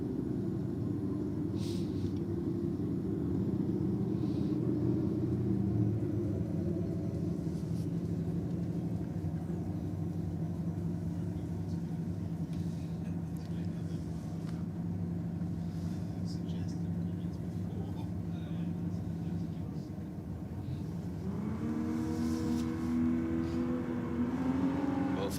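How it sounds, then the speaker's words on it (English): A Ford XE Falcon drag car at a drag strip lining up for a skid run, its engine rumbling loud and steady, then revving up near the end, with a commentator talking over it. "The XE Falcon back out for another skid in the Rocket lane."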